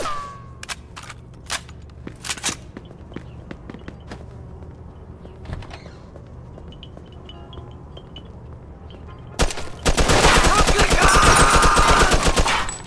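Gunfire in the video game Mafia 2: scattered single shots over the first seconds, then a loud, sustained automatic burst close up near the end, with someone speaking briefly.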